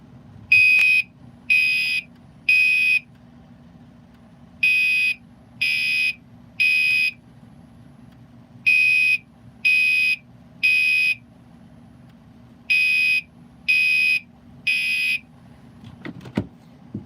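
A home smoke or fire alarm sounds in repeated groups of three loud, shrill electronic beeps with short pauses between groups, close by and alone over a low steady hum, with no talking.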